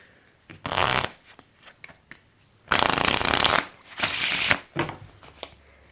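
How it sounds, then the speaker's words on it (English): A deck of playing cards being riffle shuffled, close and clear: several bursts of fast fluttering card riffles, with quieter taps and handling between them. "I'm just going to give the cards a normal riffle shuffle"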